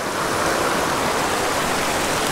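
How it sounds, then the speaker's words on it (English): Small mountain creek holding cutthroat trout, flowing with a steady, close, full rushing wash that stays even and unbroken, with no voices. "This is an amazing creek."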